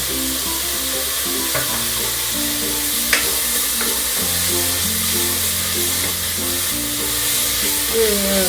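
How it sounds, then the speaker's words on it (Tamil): Ginger garlic paste sautés in a hot pan for a spicy green peas curry, giving a loud, steady sizzle with occasional stirring scrapes throughout. "நல்லா வதக்கணுங்க. இந்த இஞ்சி பூண்டு விழுதினுடைய இந்த பச்சை வாசமெல்லாம் போகணும்."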